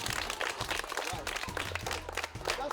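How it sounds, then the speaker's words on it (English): A Jamaican school class claps for themselves during a fire-safety lesson: quieter, uneven clapping from a room of students, with voices and movement mixed in over it. "I think you should give yourselves a clap."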